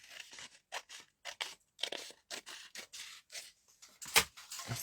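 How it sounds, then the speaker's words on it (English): Scissors snip repeatedly through card stock while a vintage-style stamped card is made, giving a series of short, crisp cuts in an uneven rhythm, close and fairly quiet, with no talking. "So let's just cut this up a bit."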